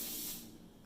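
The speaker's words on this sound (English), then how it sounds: "I'm going to spray that liberally" Short hissing burst of non-stick cooking spray into the pot of a sun oven, loud at first and then fading.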